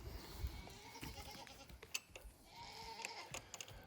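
Goats on an off-grid Alaska homestead bleat several times, close and fairly loud, with short irregular calls over a quiet outdoor background and a brief voice.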